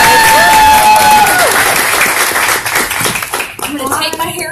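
Applause from an indoor audience rises to a loud, dense wash from the start, with a sustained tone gliding away early and voices and crowd noise mixing in as the clapping thins toward the end.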